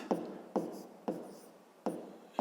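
A pen writing on paper during a fifth-grade math problem gives a few soft, evenly spaced scratching strokes, each starting sharply and fading, close up and quiet, with no voices.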